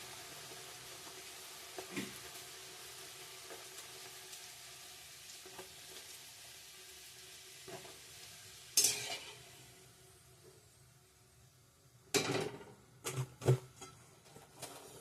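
Luchi puffed flatbreads frying in hot oil, a faint low sizzle broken by a few sudden louder bursts as dough enters or is turned, with occasional utensil clinks; quiet, no voices.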